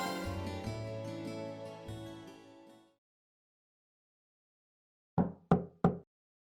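Three sharp knocks on a door in the Trails of Cold Steel video game, evenly spaced and close, sounding alone after a sustained musical passage fades into silence.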